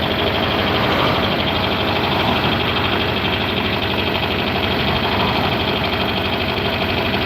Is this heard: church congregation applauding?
no